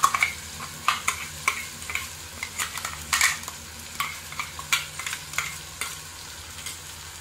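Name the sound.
sautéing sesame-lentil paste with tomatoes in oil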